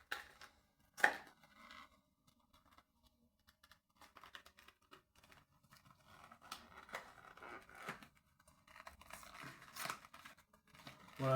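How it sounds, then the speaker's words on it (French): Cardboard packaging of a Pokémon battle deck is torn open in short, sharp rips and crinkles, close and fairly quiet, with pauses between bursts. "Voilà, j'ai dû déchirer le packaging."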